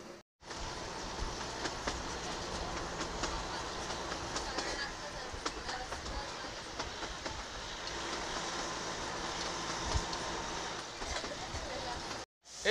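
A train pulling away past a closed level crossing gate, a steady rumbling roll with faint clatter heard from nearby, running throughout before cutting off abruptly near the end.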